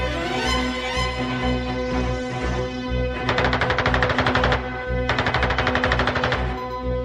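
Rapid bursts from a pair of Shkas machine guns on a Soviet E-16 fighter, loud and fast-rattling, firing in two long sustained strings over steady engine drone.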